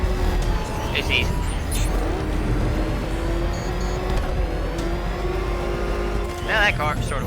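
A car in the video game Batman: Arkham Knight drives with a loud, continuous engine drone that rises and falls with speed, mixed with other game effects.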